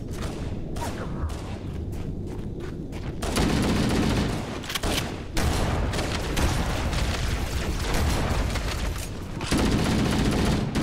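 Gunfire in Halo: Combat Evolved Anniversary during a fight with the Flood: dense, sustained automatic fire with booming blasts, loud and close, running nearly unbroken throughout.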